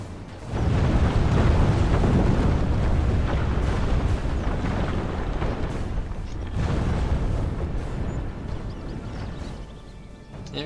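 Castle walls collapsing in a Medieval 2: Total War siege, a long, loud rumbling roar of crumbling stone that fills the scene continuously for several seconds, easing briefly midway before swelling again and fading slightly at the end.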